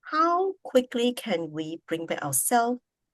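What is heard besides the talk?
None of the usual background noises is heard.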